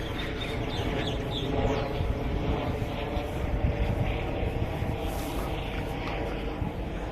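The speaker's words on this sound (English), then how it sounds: "It's just it's a pilot chopper, I think." A pilot helicopter flies overhead near the port at Carrington, Newcastle, a steady broad rotor and engine drone that stays loud and even throughout, with faint birdsong scattered on top.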